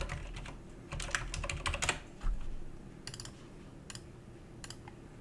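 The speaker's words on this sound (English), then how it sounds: "If we go to our web browser of choice and type in this address" A web address is typed on a computer keyboard in quick clusters of keystrokes, then a few scattered single presses, close and fairly clear against a low steady room hum.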